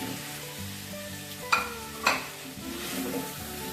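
Cauliflower florets for Gobi 65 fry in hot oil with a continuous sizzle, broken by two sharp clinks of a utensil against the pan.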